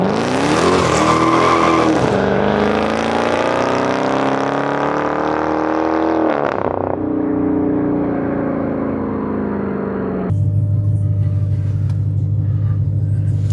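A Dodge Charger Hellcat launches hard off the line, engine roaring loud and close with tires spinning briefly on pavement before gripping, the pitch rising then settling into a steady drone as the car pulls away.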